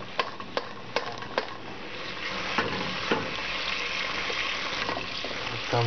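Onion fries in hot oil in a pan, a steady close sizzle punctuated by several sharp clicks and knocks of a long wooden spoon stirring, with no talk.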